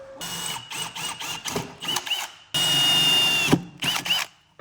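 Power drill boring into a Honda Talon UTV, several short bursts of whining motor with brief pauses, then one long sustained run close by, loud and alone.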